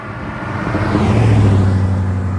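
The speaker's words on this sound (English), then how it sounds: "Here we have a car and one is coming." A car on a Midwest road beside the highway in Illinois passes nearby, its engine and tyre rumble swelling into a steady loud drone with no voices.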